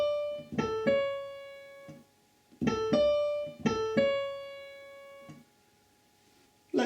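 A piano plays a phrase from a song: clear struck notes in short groups, some held and ringing out, close and moderately loud with no talking.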